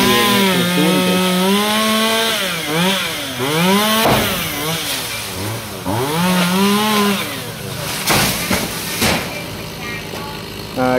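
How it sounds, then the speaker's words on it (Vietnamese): A Shindaiwa 1039 chainsaw cuts into a coconut tree, its engine loud and close, revving up and down in repeated sweeping pitch swings with a harsh buzzing tone throughout. "Cái máy cưa anh thợ đang sử dụng đó là cái máy cưa 1039 Shindawa nha"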